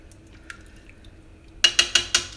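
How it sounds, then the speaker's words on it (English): Spaghetti sauce being stirred in a pot, heard as a quiet wet scrape followed by four distinct clinking knocks of the spoon against the pot in a quick, regular rhythm near the end. "And let me stir this up."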